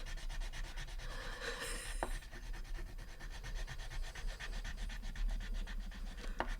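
Slow rubbing strokes of a colored pencil burnishing a drawing, a soft continuous scratchy friction repeating close up and alone.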